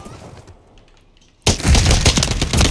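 Loud, dense gunfire from the Modern Warfare 3 video game in a Search and Destroy match, a rapid burst that erupts suddenly after a quieter stretch of distant shots and keeps rattling close and full.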